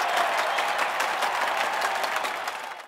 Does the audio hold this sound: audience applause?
yes